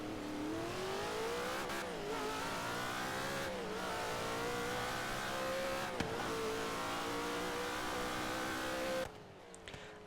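Cleetus McFarland's Leroy drag car, tuned to 2000 horsepower in Forza Horizon 3, revs loudly and continuously, its engine pitch rising and falling in repeated sweeps, then cuts off abruptly at the end.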